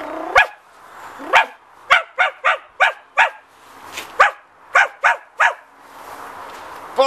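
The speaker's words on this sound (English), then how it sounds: "Now then, the dog keeps barking." A dog barks about a dozen times in an irregular string of sharp, close, loud barks separated by short pauses.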